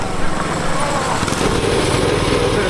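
A turbocharged five-speed Corvette go kart engine buzzes and rattles close by as it runs over bumpy ground, giving a dense, rough, continuous drone.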